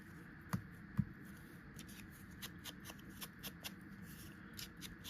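Scissors fussy-cut small paper ephemera pieces for a junk journal, giving a quiet run of crisp snips and light paper rustles close by, with two sharper snips early on, then an irregular sequence of softer cuts.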